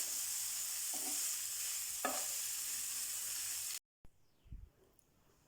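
Chicken filling stir-fried with soy sauce, vinegar and chili sauce in a pan: a steady hissing sizzle broken by a couple of spatula scrapes, then it cuts off to near quiet with a soft thump.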